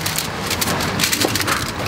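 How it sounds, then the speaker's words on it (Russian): Steady rain patters densely on surfaces outdoors beside a grill, a close, continuous wash of drops with no talking. "немножко дождь пошло, но ничего поделаешь"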